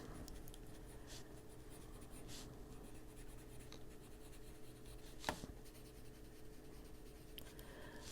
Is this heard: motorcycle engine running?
no